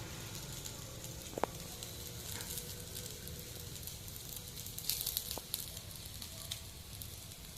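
Ragi adai, a finger millet flatbread, cooking on a pan over low heat, giving a faint, steady hiss and soft crackle throughout with a couple of brief clicks, no one talking.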